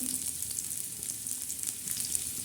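Onion frying in a pan, a steady bright sizzle with faint crackles and light stirring throughout, no talking.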